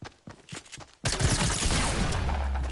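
Rapid bursts of suppressed SMG fire in Fortnite Battle Royale: scattered softer shots at first, then a loud, continuous spray from about one second on that stays dense to the end.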